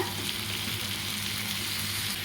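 Tomato and coconut sizzle in a hot pan with a steady, even frying hiss, close by and with no one talking.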